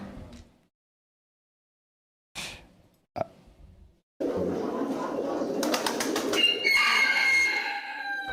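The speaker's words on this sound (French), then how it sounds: "Oies, dindes, paons, pigeons, canards et poules partagent ce poulailler." Mixed farmyard birds in a shared coop of geese, turkeys, peacocks, pigeons, ducks and hens call at close range, clucking and squawking with bright high chirps after a few scattered bursts, building into a continuous busy chorus.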